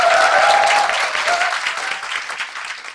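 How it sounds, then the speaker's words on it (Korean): Loud, full applause from a live studio audience at a Korean talk show, strongest at the start and gradually thinning, with a brief tonal note riding over the clapping early on. "박수 좀 크게 부탁드려요."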